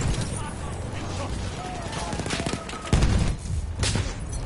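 Explosions and rattling gunfire from the World War I shooter Battlefield 1 on PS4 Pro, a dense continuous barrage with heavy booms, loud and close throughout.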